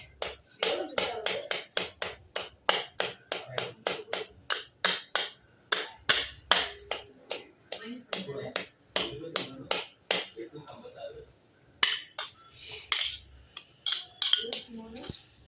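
Knife chopping vegetables on a cutting board in a home kitchen, a fast run of sharp, evenly spaced thuds that pauses briefly and then resumes, close and loud, with a voice speaking over parts of it.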